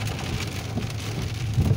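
Heavy rain pours steadily onto a car driving through a rainstorm on a trip from New Jersey to Pennsylvania, a dense, constant hiss with low road rumble beneath and no talking.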